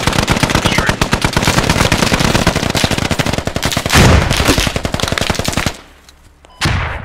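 Sustained machine gun fire in the military video game Squad, rapid loud bursts close up hammering almost without pause for several seconds, then a brief lull before another shot.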